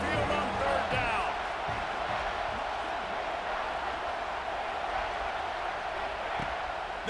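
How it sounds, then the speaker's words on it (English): Stadium crowd roaring continuously at Saban Field during a third-down play in EA Sports College Football 26, a dense steady wash of crowd noise with a few sharp thuds early on. "The Tide crowd rolling noise down onto Saban Field on 3rd down."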